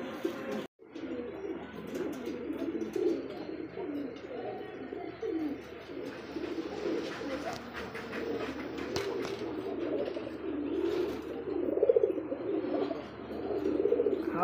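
A pair of Indian Bombay pigeons cooing close by in repeated soft, throaty phrases, with occasional small chirps and faint background noise and no speech.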